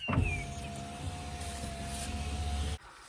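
An electric car window, on a Vauxhall, hums closed in a steady whine of about three seconds that ends in a soft thud, heard close inside the car with no talk.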